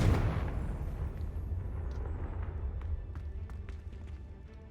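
Hogwarts Legacy's Confringo fire spell bursts in a single loud blast that decays into a rumbling tail with scattered faint crackles.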